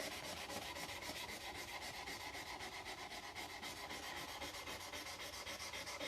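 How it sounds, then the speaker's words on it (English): Steady hand sanding on a wooden buck knife handle, a continuous close rasping rub with even back-and-forth strokes and no talk. "it doesn't take so long to do the final sanding"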